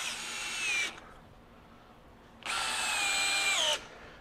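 A DeWalt DCD794 Atomic 20V brushless compact drill drives a 3.5 inch deck screw in high speed, two loud whirring bursts of the motor, the second longer and straining near its end, with a short pause between.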